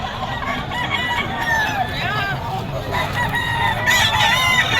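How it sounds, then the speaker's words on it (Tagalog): White Kelso rooster crowing at a busy pet market, several drawn-out calls rising and falling over crowd chatter and background clucks, fairly close and clear above the noise. "White Kelso daw ito mga tol."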